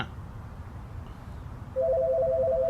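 A telephone starts ringing partway through with a repeating electronic tone over low background murmur and rumble, and no one picks up.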